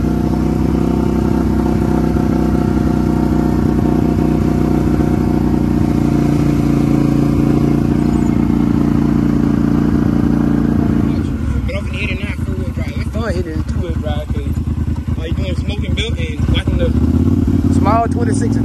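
A Polaris Sportsman 850 Highlifter ATV on small tires drives at speed, its engine a loud, steady close drone. Someone talks over it in the second half as the ride turns rougher and clattery.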